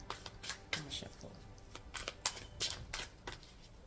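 Tarot cards are shuffled by hand in a string of soft, quick riffling bursts, faint and close, with a voice speaking now and then in between.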